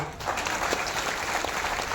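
Audience applause at a political rally for Prashant Kishor's Jan Suraaj campaign in Bihar, a steady dense clapping from a large crowd that holds at an even level for about two seconds.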